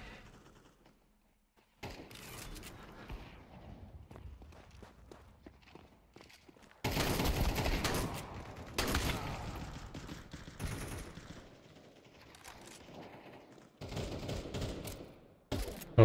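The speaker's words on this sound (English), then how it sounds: "just shoot when I'm kinda confident I'm getting that shot" Gunfire and footsteps in Counter Strike 2: quiet stretches of steps and movement broken by loud bursts of shooting, heaviest in the middle and again near the end.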